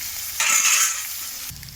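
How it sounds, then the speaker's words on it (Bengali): Eggplant pieces seasoned with salt and turmeric sizzling in a hot pan, a brief burst of loud frying as they are stirred, then settling back to a softer sizzle, close up. "তো স্বাদ মতন নুন আর হলুদ বেগুনে দেওয়া হলো। লাল লাল করে ভাজবো।"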